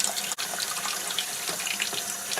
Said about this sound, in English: Put some fresh clean water in and rinse it off.